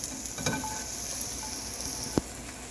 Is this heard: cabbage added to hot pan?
yes